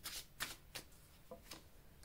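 Tarot cards are drawn from a deck during a reading, giving a few quick, soft papery slides and flicks in close succession, quiet and close with no talking.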